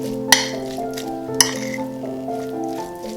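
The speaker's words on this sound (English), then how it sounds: "So now I'll just mash to combine, taste and add for salt" A utensil mashes canned sardines with vegetables in a bowl, giving two sharp clinks and soft scraping over a steady tonal background.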